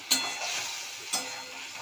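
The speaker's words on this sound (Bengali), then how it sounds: "এবারে পেঁয়াজ ভাজা হতে মশলা, আদা রসুন জিরে ধনে লঙ্কা হলুদ, এই মশলাটা করছি।" A spice paste of ginger, garlic, cumin, coriander, chilli and turmeric with onion fries in oil, a soft steady sizzle broken by two sharp stirring scrapes, close up with no talking.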